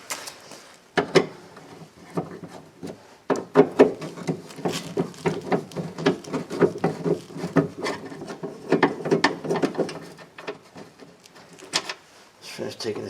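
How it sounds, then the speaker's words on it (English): Scraping, rubbing and knocking as three screws are taken out of a 2001 Ford Sport Trac door latch, irregular close handling sounds with intermittent clicks and thumps. "Just finished taking the 3 screws out of the latch."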